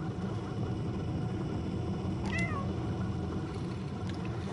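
A cat meows once in a video game, a short faint call rising over a constant low rumbling background hum, with no other clear sounds.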